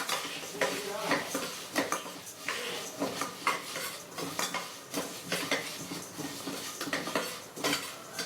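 Toor dal frying in oil for vendhaya kuzhambu, with frequent metallic clinks and scrapes of a ladle stirring the pan over a soft sizzle, busy and close throughout.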